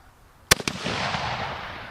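A single Mosin Nagant rifle shot cracks out sharp and loud, with a quick secondary report just after. A long reverberant tail then rolls away across the open range.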